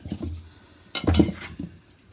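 A spoon scraping and clinking against a pot as yogurt is mixed into fish biryani masala, a few soft stirring strokes with a louder burst of clatter near the middle, no voices.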